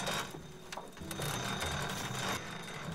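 Power wrench whirring in The Walking Dead Telltale video game, a short buzzy mechanical run of about three seconds with a few clanks, close and fairly loud, no talk over it.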